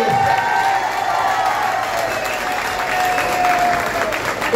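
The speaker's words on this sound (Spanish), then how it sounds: "yo quiero que recordemos con un aplauso grande, por favor, para mi querido padre, Leocadio del Carmen Torres" A large crowd at a folk music show gives sustained applause with some cheering mixed in, a broad continuous wash of clapping at steady loudness.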